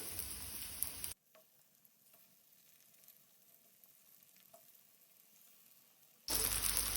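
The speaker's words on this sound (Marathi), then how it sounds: "तेल तापले तशें तातून आमी फोडी घालून घेवया" Semolina-coated ridge gourd slices hit hot oil on a tawa with a loud, close sizzle that breaks off into a quiet stretch of faint crackle before flaring up loudly again.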